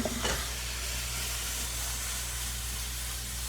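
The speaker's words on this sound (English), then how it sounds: "do you hear that sizzle?" Steady, dense sizzling of vegetables, including zucchini, frying in a hot pan, with a brief clatter of stirring at the start; no voices.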